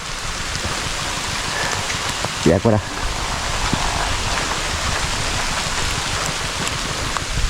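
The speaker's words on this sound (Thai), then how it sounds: "ฝนตกแดดออกพี่น้อง" Steady rain falling in sunshine outdoors at a rice harvest in the Thai countryside, a continuous broad hiss throughout with a voice speaking briefly over it.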